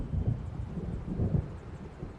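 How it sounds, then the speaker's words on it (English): Thunder of an approaching storm in Alan Wake, deep rolling rumbles in two swells over steady wind and rain-like noise, low and moderately loud, with no voices. "It seems there's a storm coming."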